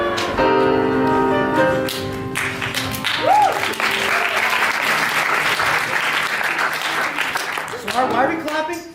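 An audience breaks into sustained applause that builds and carries on for several seconds, with some voices and cheers mixed in.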